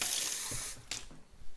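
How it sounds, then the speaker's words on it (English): Water is poured into a hot pan with a sauce, giving a brief hissing sizzle that fades, followed by a few soft bubbling pops. "Just gonna hit it with a bit of water because that stock evaporated very, very quickly."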